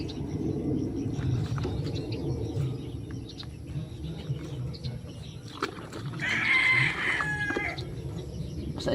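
Chickens cluck and mutter over a low rumbling background, then a rooster crows loudly and clearly near the end.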